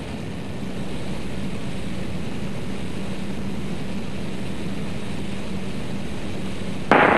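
A Cessna light propeller airplane on a runway during a touch and go, its engine droning steadily and fairly loud from start to finish, with a brief louder burst at the very end.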